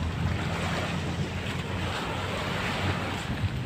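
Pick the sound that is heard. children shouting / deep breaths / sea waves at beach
sea waves at beach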